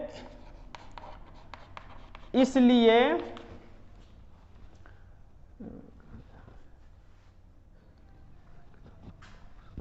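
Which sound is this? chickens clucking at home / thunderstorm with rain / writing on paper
writing on paper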